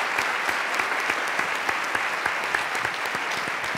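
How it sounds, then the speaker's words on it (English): Sustained audience applause at a lecture hall event, a full, even roar of many hands clapping with occasional sharper claps popping out, steady from start to finish. "So join me in one more round of applause."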